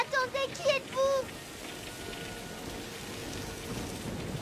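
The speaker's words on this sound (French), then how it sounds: "Il faut pas qu'il sorte sous cette pluie." Steady rain falls in an action film scene, a broad even hiss that carries on after a brief stretch of voices at the start.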